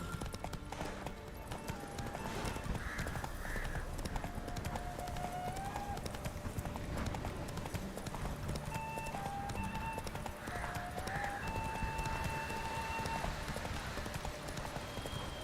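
Roach, a horse in the video game The Witcher 3, gallops with a steady, rapid clip-clop of hooves throughout, accompanied by game music and occasional faint tonal sounds.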